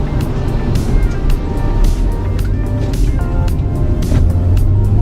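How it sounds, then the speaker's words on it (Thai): Steady, loud engine drone from a Mercedes-Benz W207 accelerating hard with a DTE electronic throttle controller in sport mode, heard from inside with road rumble and no clear talk. "นี่ออกตัวอย่างเร็วเลย"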